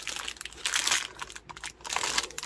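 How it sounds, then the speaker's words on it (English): Plastic bag wrapping around a small crocheted or needle-felted figure crinkles and rustles as it is pulled open by hand, close and in bursts with brief pauses. "She's also in another plastic bag. So we'll just remove her from this."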